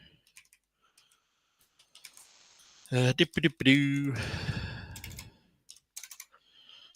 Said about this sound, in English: it's kind of what I'm typing out now